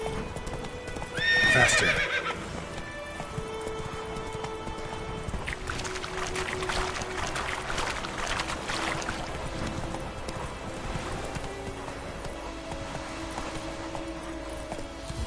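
Roach the horse gallops in The Witcher 3, a steady rapid clip-clop of hooves with a whinny near the start, while someone speaks briefly over the running.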